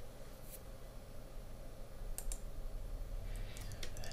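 A computer mouse gives a few sharp, faint clicks near the microphone in a quiet room, scattered over a few seconds with no talk.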